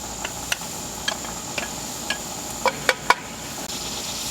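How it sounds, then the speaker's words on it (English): Onions with garlic and ginger starting to sauté in a pan for chicken tikka masala: a soft, steady sizzle under scattered sharp ticks and pops, fairly quiet and close, with no voices. "Let these start to saute."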